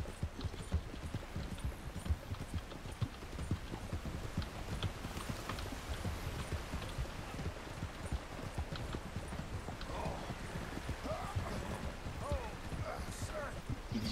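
Horse hooves clip-clop steadily in the Red Dead Redemption game, a fast continuous patter under someone talking and game background noise.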